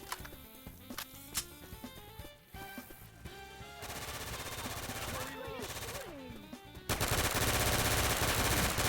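Rapid automatic gunfire in a shooter video game, sustained loud bursts layered over game sound and background music, growing denser toward the end, with a voice talking over it.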